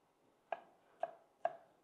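Knife strikes a cutting board while mincing smashed garlic, three distinct sharp chops spaced about half a second apart, close and clear.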